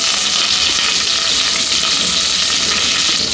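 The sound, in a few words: curry leaves sizzling in hot oil with fried chana dal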